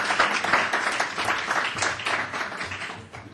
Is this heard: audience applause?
yes